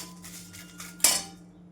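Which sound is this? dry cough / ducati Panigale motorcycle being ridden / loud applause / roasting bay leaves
roasting bay leaves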